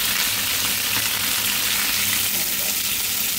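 Sardine fish frying in hot oil, a steady dense crackling sizzle that stays constant and close throughout, with faint voices underneath.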